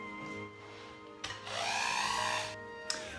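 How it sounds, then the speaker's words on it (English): An electric hand mixer beating butter and icing sugar whirs on for about a second and a half, loud and close, then cuts off, with a faint hum and clicks around it. "I'm just gonna mix up and beat up the butter and the sugar first"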